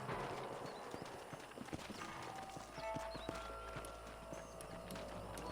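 Horse hooves clip-clopping steadily on the ground in the Red Dead Redemption video game, with a brief whinny, under ambient game sound and wind.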